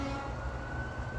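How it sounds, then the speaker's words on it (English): Emergency vehicle sirens wail steadily in the distance, faint against a low background rumble, with no one speaking. "Emergency sirens going on"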